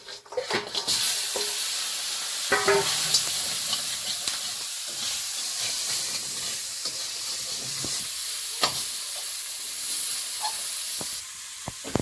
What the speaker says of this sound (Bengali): এই কড়াটা এই পাকায় দিলাম এর মধ্যে একটু ফোড়ন দেব কাঁকড়া চিংড়ি